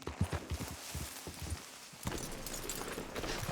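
Horse hooves clip-clopping at a steady walking rhythm in Red Dead Redemption 2, fairly quiet, fading briefly before continuing with a rougher scraping texture.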